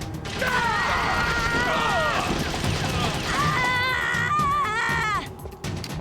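Gunfire rattles through a tense standoff in Metal Gear Solid: The Twin Snakes, a loud, dense burst of shots and mechanical clatter that continues for several seconds while voices speak over it.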